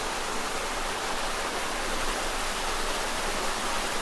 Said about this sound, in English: And of course the waterfall is shorter.